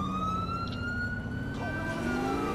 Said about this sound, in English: So I'm also using a new siren by Sharp Command. So that's the Yelp.